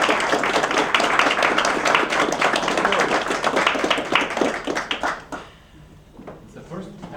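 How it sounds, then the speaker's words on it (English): A convention audience applauds a panel on fandom at a science fiction gathering, with loud, dense clapping that runs steadily for about five seconds before breaking off into scattered claps and murmurs. "a hand of applause for the panel"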